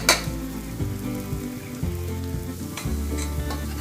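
Chopped tomatoes and spices for pav bhaji sizzling in a hot pan while being stirred, a steady close frying hiss broken by scraping and clanking strokes of the spoon.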